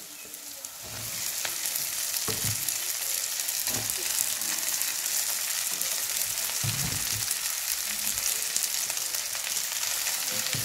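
Pasta and eggs hitting a hot pan with garlic, onion and green chilli for a village-style potato pasta, bursting into a loud, continuous close sizzle with occasional stirring knocks underneath.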